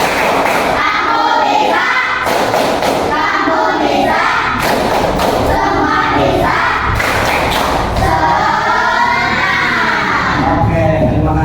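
Classroom children do a rhythmic spirit clap, loud bursts of claps in a repeating pattern mixed with group shouting and chanting, close and energetic throughout.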